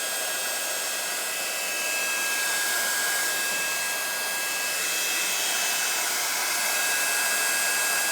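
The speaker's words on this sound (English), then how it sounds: "Going to pop my heat tool on, so obviously excuse the noise. I've put it on its fastest." A handheld heat tool blows on its fastest setting while embossing powder on an MDF disk, giving a steady, loud, close airy roar that holds unbroken throughout.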